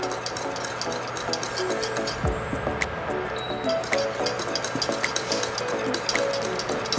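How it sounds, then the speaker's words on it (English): Boiling lemon gummy candy mixture being stirred in a pot on a stove, with scraping and clinking of a utensil, small repetitive ticks and knocks over a low steady hum. "we continue to stir all the time"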